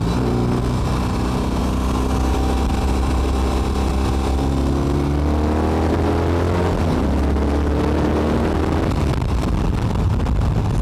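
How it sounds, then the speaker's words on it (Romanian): BMW R18 Transcontinental motorcycle with its big boxer twin idling and then revving, a steady low throb swelling into rising engine pitch, close and loud with some wind buffeting. "Și acum să auzim boxer în toată splendoarea lui."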